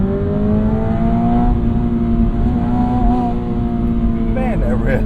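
A 2025 Toyota GR86 Hakone Edition engine drones loudly from inside the cabin, revving steadily with rising harmonics as it downshifts, then a quick burst of blips near the end, continuous and close throughout.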